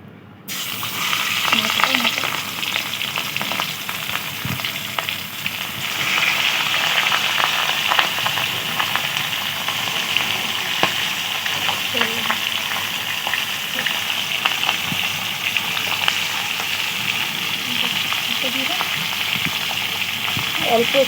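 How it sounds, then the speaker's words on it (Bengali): Katla fish frying in hot oil makes a loud, steady crackling sizzle close up, which swells after a few seconds and continues throughout. "তেল গরম হয়ে গেছে, মাছটা দিয়ে দেবো।"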